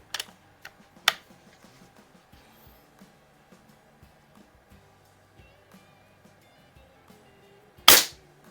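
CO2 air rifles, a Beeman QB78S and an AR2078 in .177 with bolt actions, firing two sharp close shots early and a louder one near the end, with faint light clicks between.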